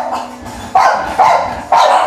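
A dog in a kennel of American Bullies and French Bulldogs barks three times in sharp, evenly spaced bursts, close and loud.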